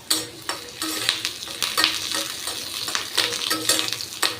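Curry leaves sauté in hot oil with a steady crackling sizzle, broken by repeated scraping stirs of a spoon against the pan at a fairly even rhythm, close and moderately loud, with no talking.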